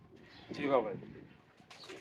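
Soft pigeon cooing, a single throaty rolling coo rising and fading, close but quiet, with a faint voice or bird call near the end.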